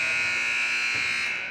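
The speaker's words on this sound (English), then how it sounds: "Shot misses there by Lynn, and that is the buzzer." Halftime buzzer at a 2017 Minnesota prep all-star high school basketball game, sounding as one loud, steady electronic buzz that holds through the whole moment and tapers slightly at the end.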